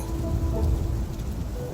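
Rain leaking through a roof falls as a steady, soft patter with a low rumbling bed beneath, continuous and even throughout.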